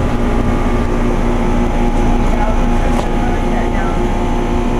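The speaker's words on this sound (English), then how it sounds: "So yeah, this has the Climate-Tough compressor." A 2009 Trane XL15i heat pump with a Climate-Tough compressor runs loudly in heat mode, a steady close rumbling drone with a low mechanical hum and a faint tonal whine throughout.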